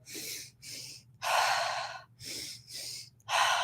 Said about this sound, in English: in and out through the mouth like I just did for balance